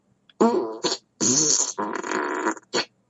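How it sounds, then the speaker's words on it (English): An Alexa smart speaker plays fart sound effects, a rapid series of five loud, close, buzzy blasts of varying length separated by short silences. "Time for me to fart 5 times."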